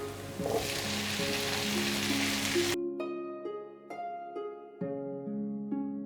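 Tomatoes and cashew nuts fry in a pan with a dense sizzle for the first few seconds under background music, then the sizzle cuts out and only the music remains.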